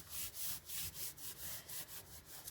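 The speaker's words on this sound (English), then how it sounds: "And then we just squash it down really good, burnish it down." Paper is burnished firmly down onto a journal cover in quick, even rubbing strokes, roughly eight close swishes in a steady rhythm, faint and with no voices.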